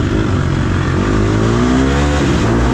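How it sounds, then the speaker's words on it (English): Off-road motorcycle engine during a race, loud and close, with the throttle blipped so the revs surge and fall in quick waves over a constant roaring drone. "I was kind of like flipping the throttle, which kind of makes me seem like I was revving at him."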